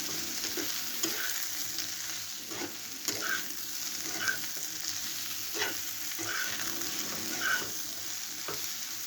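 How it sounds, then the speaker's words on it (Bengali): Steady sizzling of potato and eggplant frying in a pan, with occasional stirring scrapes and soft clinks, close up and fairly quiet, no talking. "আমার আলু বেগুনটা ভাজা ভাজা হয়ে আসছে।"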